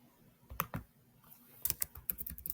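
Typing on a computer keyboard: scattered quiet key clicks, then a quicker burst of taps toward the end, close and soft with no voices.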